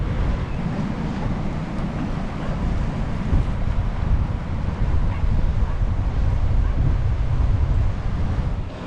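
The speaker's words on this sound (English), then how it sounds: "That wind was quite strong." Strong wind rushing across the microphone on a gravel bike ride, a loud continuous low roar and buffeting that holds steady throughout with no voices.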